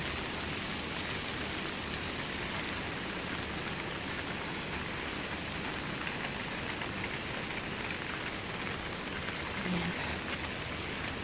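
Heavy rain pours steadily and loudly, a dense unbroken roar of water on surfaces near a flooding drain, with no talk over it.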